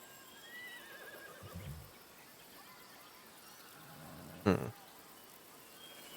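Horses in the video game Humankind neigh faintly, with one sharp whinny standing out near the end over a quiet, muffled game background.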